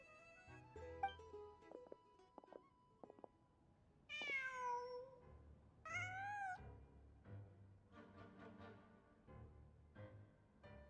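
A cat meows twice in Genshin Impact, two drawn-out, clear mews about two seconds apart, set against quiet game ambience and soft plucked tones.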